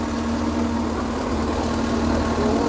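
Farm vehicle engine running steadily as it moves off, a loud close continuous drone with a strong low hum and even vibration throughout.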